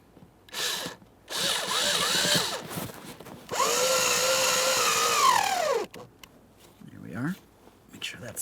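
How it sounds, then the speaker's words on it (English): Power drill driving a Phillips head screw during a blower motor install on a 2014–2019 Toyota Corolla, heard in several short whirring bursts close by, one long run rising in pitch, with pauses and light handling noise. "Start in that Phillips head screw."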